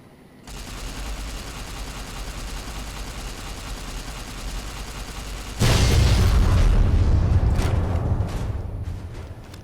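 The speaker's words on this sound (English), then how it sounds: "Should be a warhead around here I can detonate." A warhead detonation in the video game Fallout New Vegas erupts as a sudden loud, deep boom over a steady background hum, followed by a few seconds of rumbling decay.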